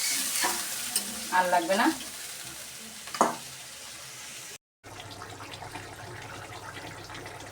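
Water goes into a pan of fried spice masala for a fish curry, and someone speaks briefly over the first few seconds. After a short cut, a steady sizzling simmer with light stirring carries on alone.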